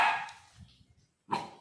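A puppy on a farm with lambs gives two short, sharp barks at the start and end, close and clear, separated by a quiet gap with faint rustling.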